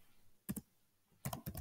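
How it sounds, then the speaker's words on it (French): Someone types on a computer keyboard, two quick close keystrokes followed after a pause by a faster burst of four or five clicks, quiet with no talking. "je fais n'importe quoi avec mon clavier"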